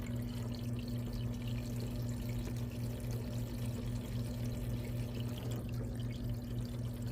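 A foot spa massager runs with its shower spraying water, giving a steady rushing, splashing flow over a low mechanical hum that continues evenly throughout without any talking.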